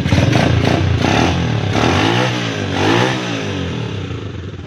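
A Kymco motorcycle engine with a new battery fires up and revs steadily, its harmonic whine climbing and falling in pitch through several throttle blips, loud and close with a rattly mechanical clatter.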